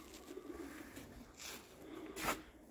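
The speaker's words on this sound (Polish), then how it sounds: "Pełne niebo gołębi, co?" Pigeons from a backyard flock fill the sky, with soft, distant cooing and a few faint wing flutters over a quiet outdoor background, including a brief louder rush of wings near the end.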